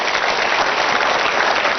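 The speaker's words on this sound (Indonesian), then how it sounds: "Saya minta tepuk tangan untuk Anda semua." A studio audience at an Indonesian evening talk show claps together, a short, even burst of steady applause heard alone.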